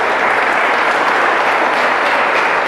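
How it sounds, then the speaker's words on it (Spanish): A church congregation applauding during a sermon, dense, loud, continuous clapping that fills the room. "Aplauda fuerte a Dios."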